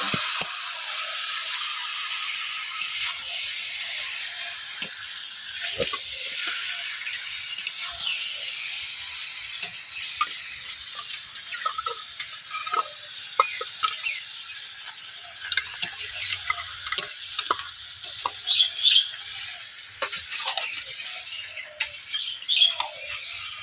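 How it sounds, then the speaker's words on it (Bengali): Chicken with sour yogurt frying in a pan while being stirred, a steady high sizzle with soft scraping and ticking taps of the spoon against the pan throughout, close and fairly quiet. "চিকেনটা হালকা কষানো হয়ে এসেছে এতে পঞ্চাশ গ্রাম টক দই দিয়ে দেবো"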